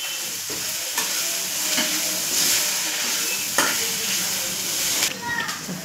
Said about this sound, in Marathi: हे मसाले आपण आता परतवून घेणार आहे